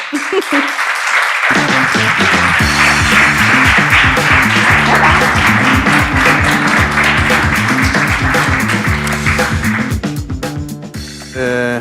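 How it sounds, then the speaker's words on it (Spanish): An audience applauds to welcome a writer and a music bookseller as invited guests at a presentation. Loud clapping runs over rhythmic music for about ten seconds, then thins and fades. "Un fuerte aplauso."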